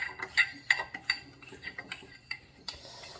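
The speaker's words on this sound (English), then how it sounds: "it simply screws in the same way it came out." A muffler is screwed back onto a Briggs and Stratton 3 to 5 horsepower lawn mower, giving a close run of quick metallic clicks and ratcheting ticks as the threads turn.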